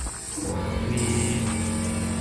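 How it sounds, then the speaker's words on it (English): Spray paint hisses steadily onto the repaired spoiler of a Nissan Sentra GXI in a workshop, a continuous close spray with a brief pause midway over a low background hum. "Dad's currently spraying the spoiler."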